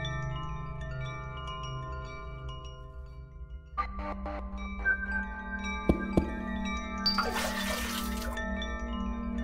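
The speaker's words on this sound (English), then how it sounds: "Filled the bucket with water." Water pours and splashes as a bucket fills in the horror game Ib, a soft liquid rush rising near the end over quiet background music.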